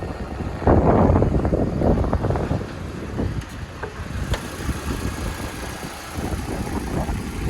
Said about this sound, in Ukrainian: Робота двигуна. Двигун працює ідеально